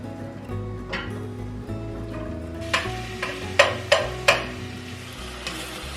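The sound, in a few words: chopped garlic and onions cooking in a pan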